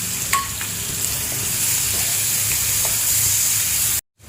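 Crushed ginger, green chili, garlic and coriander sizzle steadily in hot oil in a pan over low heat, a loud continuous close hiss that ends abruptly at the end, with no talking.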